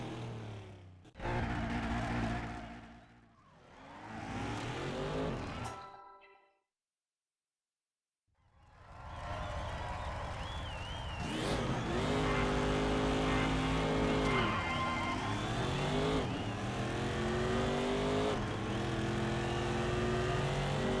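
Race cars in the video game Race Driver: Grid, including an NSX and a Mustang, rev and accelerate in bursts, then settle into a sustained engine whine with shifting pitch at moderate volume.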